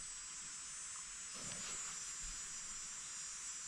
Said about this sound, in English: Seriously, cicadas, you gotta do that right now.